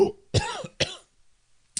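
A man coughs twice in quick succession, close and dry, with a short throat-clearing sound trailing at the end during a podcast recording.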